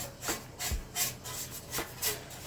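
Pastry brush rubbing butter onto a metal loaf pan to grease it before bread dough goes in, a series of soft, close scraping strokes in a steady rhythm with short pauses between.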